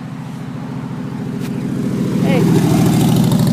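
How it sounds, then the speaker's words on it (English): A motorcycle passes by outdoors, its steady engine drone building louder over a few seconds, with a brief shout from a person partway through. "here comes somebody on a motorcycle."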